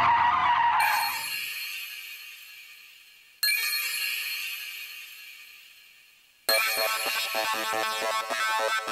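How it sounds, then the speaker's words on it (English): A car drifts with long, loud tire screeches, three sustained squeals in a row, each fading slowly before the next starts sharply, heard close with no talk. "flip with the throttle a bit, and actually use the throttle and the steering to make the back of the car wag"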